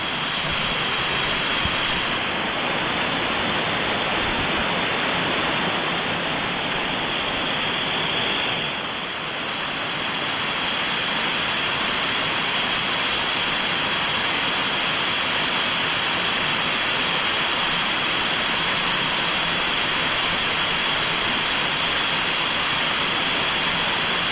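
Roaring waterfall at Kinlock and Parker Falls, heard up close from a rock beside the falling water, a loud unbroken broadband rush that holds steady throughout with no voices.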